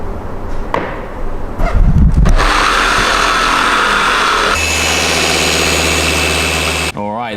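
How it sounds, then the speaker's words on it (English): A polishing machine buffs car paint, a loud steady whirring drone that shifts pitch midway as the pad works the surface, close up with a brief scrape at the start. "This is exactly why we go through this stage of buffing the paint to try and get out problems exactly like this."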